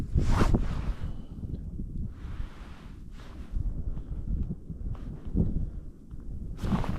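Wind gusts roar across open ice during winter ice fishing, a steady rushing buffet on the microphone that swells at the start and end with scattered rustles and footsteps beneath.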